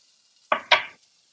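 Chopped onion hitting hot avocado oil in a pan while cooking cilantro-lime rice: two quick, loud bursts of sizzling, each flaring sharply and then fading over a fraction of a second, with near-silence around them.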